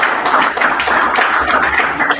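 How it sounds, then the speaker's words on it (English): An audience at a tech meet-and-greet claps for a speaker, a dense, steady patter of many hands heard up close that continues without pause. "Another round of applause for our speaker."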